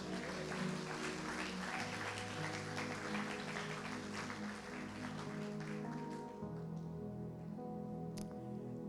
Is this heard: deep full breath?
no